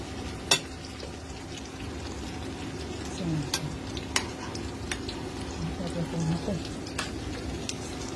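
Tortang talong, a Filipino eggplant omelette, fries in a pan with a soft, steady sizzle, broken by a few sharp utensil clinks and scraping stirs close by.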